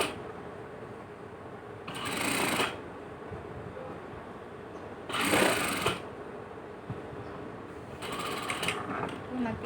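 A sewing machine stitches a zip onto mermaid-style fabric, running in three short bursts of whirring separated by pauses, moderately close in a quiet room.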